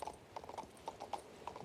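Horse hooves clip-clopping in the video game King's Bounty 2, a quiet, faint series of light, evenly spaced hoof clops at a walking pace.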